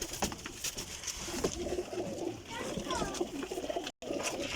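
Salara pigeons cooing in a loft, soft repeated coos under steady background chatter and bird calls, with children's voices faint in the distance.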